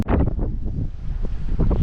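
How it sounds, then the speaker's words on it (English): Strong hurricane wind during Hurricane Nicole batters the microphone while fishing outdoors, a loud, gusty low rumble of buffeting that surges and dips over a couple of seconds, no speech. "this wind getting to where I can't even cast out"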